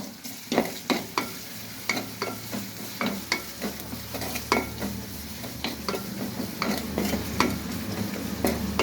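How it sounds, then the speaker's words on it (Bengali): Small fish (bata) with salt frying in a pan, a steady sizzle under repeated clinks and scrapes of a spatula as it is stirred, close and continuous. "একটু ভাজা ভাজা করবো।"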